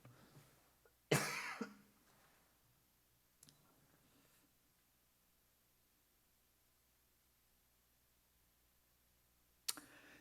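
One loud cough rings out during a Sunday sermon in a quiet room, followed by a few faint clicks and a second brief sharp sound near the end.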